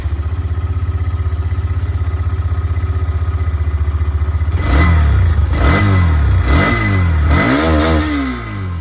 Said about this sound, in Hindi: अब मैं आप लोगों को यहाँ पर जो एक्सट्रीम की आवाज़ है वो भी सुना देता हूँ।